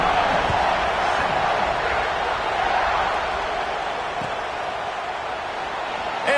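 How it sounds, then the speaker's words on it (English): An American football stadium crowd keeps up a loud, dense roar after a score, steady and unbroken throughout, with indistinct voices mixed into the din. "this crowd is buzzing after that last score"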